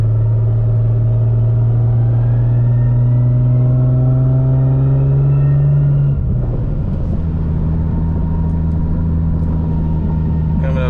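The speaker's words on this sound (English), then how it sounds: "drop it into first gear. So we're in first gear here, right? And we can start driving off like normal." A 1000+ horsepower MKIV Toyota Supra with a sequential three-speed gearbox pulls away in first gear, its deep steady engine drone holding loud and close, then briefly breaking and settling into a new tone midway.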